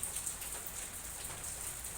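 Heavy rain falls in a steady, dense hiss of drops on surfaces, constant and unbroken throughout, with no voices.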